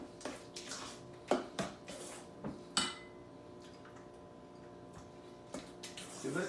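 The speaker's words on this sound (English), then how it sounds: "Give it a good stir." A spoon stirs onion dip made with sweet, mild Spanish onions in a bowl, giving a series of light scrapes and clinks against the sides, fairly quiet and irregular, with no voices.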